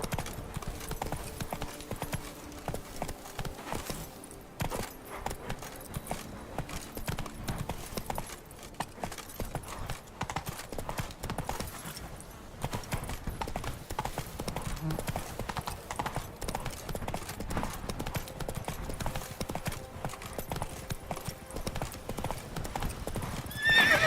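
Hoofbeats of Roach, the horse in The Witcher 3: Wild Hunt, a steady, continuous clip-clop at a brisk gait that runs throughout, close and moderately loud, with a brief whinny-like accent near the end.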